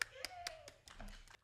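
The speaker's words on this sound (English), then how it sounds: "Everybody give a clap" A few hand claps at the start of a podcast recording, sharp separate slaps spaced irregularly and close to the mic, with a voice briefly heard beneath them.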